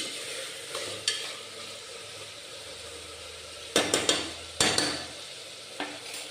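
Onions with ginger, garlic and curry leaves frying in a pan for homemade egg biryani, a low continuous sizzle punctuated by several sharp scraping and clanking bursts from stirring.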